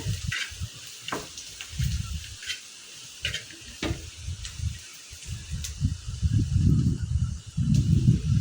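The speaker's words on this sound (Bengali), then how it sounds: "তারপরে দিচ্ছি ধনে গুঁড়া তো এই যে মশলাটাকে ভেজে নিচ্ছি তেলের মধ্যে" Coriander powder and spices frying in hot oil for a pointed gourd mash: a steady, close sizzle with crackling pops and scattered sharp ticks, growing denser and louder toward the end.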